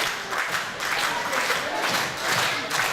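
A wrestling crowd at a live show cheers and claps, with rhythmic surges of applause and shouting rising and falling in waves, close and loud.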